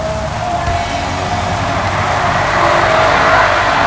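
A Tiger motorcycle engine with a carburetor and accelerator pump runs steadily with a dense, rough drone, then grows a little louder as the throttle opens, close and continuous throughout.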